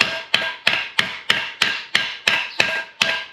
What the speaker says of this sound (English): And now we're going to hammer it.